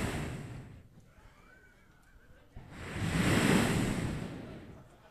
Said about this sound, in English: take her to the beach. The beach, all right, because the sound alone will get her in a better mood